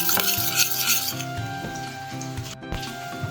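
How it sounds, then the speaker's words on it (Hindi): Spices, lemon juice and red chili powder being stirred together for a marinade, with a steady scraping and clinking of a spoon against a bowl, close and moderately quiet, broken by a few sharper knocks. "और मैं अच्छी तरह इसे मिक्स कर लूँगी मसाले को।"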